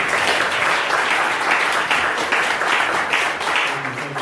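Steady, dense applause from an audience at an annual celebration event, loud and continuous throughout with no pauses, a broad wash of many hands clapping at once.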